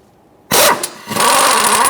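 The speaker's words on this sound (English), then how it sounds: "I'm going to use a 19mm socket on an impact and remove the crank pulley bolt" An impact wrench with a 19mm socket spins off the crank pulley bolt on a 2003-2007 Honda Accord during a timing belt job: after a quiet start, a loud close burst of hammering rattle, a brief pause, then a second sustained run.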